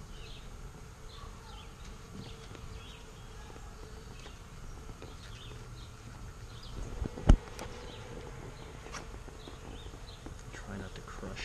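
Honey bees buzzing around an open hive while honeycomb is handled, a faint steady hum with scattered buzzing passes and one sharp knock partway through, low ambient level.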